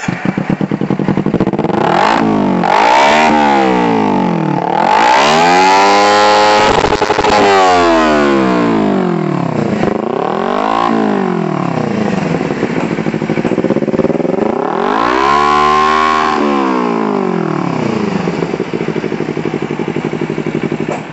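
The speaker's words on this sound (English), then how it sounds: "itu tadi suara knalpot Termignoni CP Rossi 4 Ninja 250 FI" Kawasaki Ninja 250 FI fitted with a Termignoni GP Rossi exhaust, revved up repeatedly in loud rising and falling sweeps between idle, close to the bike and with no talking.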